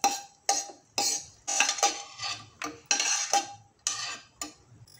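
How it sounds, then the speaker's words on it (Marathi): Raisins being lightly roasted in ghee and stirred in a pan for jaggery lapshi, the spoon scraping and clinking against the metal in a steady series of sharp, close strokes, with no talking. "त्याचबरोबर मी आता हे किसमिस आहे ते पण हलकेसे फुलवून घेते आहे."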